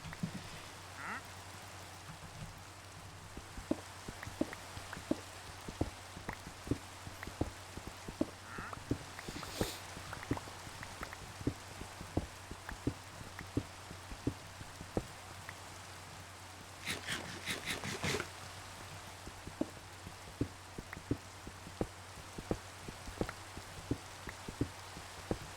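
Steady rain from the Minecraft video game patters softly and continuously under scattered sharp drip-like ticks, with a brief louder splash partway through, fairly quiet overall.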